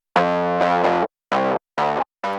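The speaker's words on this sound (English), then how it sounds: "Basically, it's another version of the bass, but with a slightly different plugin" Bass line played through a Logic tube burner distortion pedal plugin: one long buzzy distorted note, then three shorter punchy notes with clear gaps, loud and alone.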